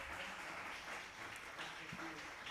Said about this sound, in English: A big round of applause for this film